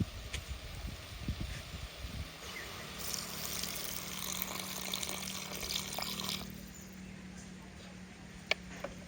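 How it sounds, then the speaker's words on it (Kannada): Water is poured into a pot of beef and green gram curry, a soft continuous splashing hiss lasting a few seconds amid quiet kitchen noise, followed by a few faint clicks. "ಸ್ವಲ್ಪ ನೀರು ಹಾಕೋಣ ಅದಕ್ಕೆ"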